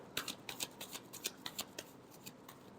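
Tarot cards being shuffled in quick, crisp riffles, a rapid run of papery snaps close by with no one speaking.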